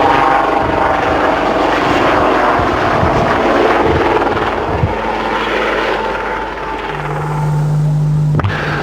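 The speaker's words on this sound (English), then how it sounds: "The Lynx is one of the fastest, most versatile and aerobatic helicopters in the world." A Westland Lynx helicopter flies an aerobatic display at the 1982 Ulster Air Show, its loud rotor chop and engine roar close and steady throughout, with a brief droning tone near the end.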